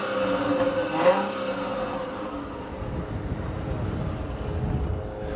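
A 2014 Chrysler 300C with its Pentastar engine cruising on the highway at about 3,500 RPM, a steady low engine drone with road and wind noise, moderately loud and alone without talk.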